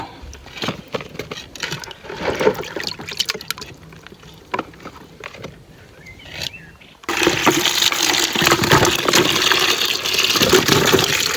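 Water splashes and sloshes irregularly, as if something is being rinsed by hand, then becomes a louder steady gush of running water.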